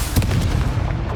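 A Confringo blasting spell cast in the video game Hogwarts Legacy lands as a short, loud, booming burst, one sharp impact followed by a brief rumbling tail.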